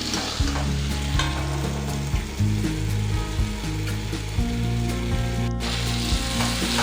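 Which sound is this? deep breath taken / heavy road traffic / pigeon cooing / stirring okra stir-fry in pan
stirring okra stir-fry in pan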